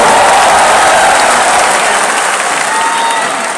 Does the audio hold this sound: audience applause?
yes